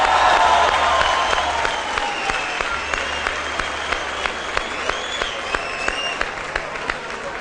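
A television studio audience applauds as a phone caller comes on the line, broad steady clapping that carries on with a faint high tone drifting underneath.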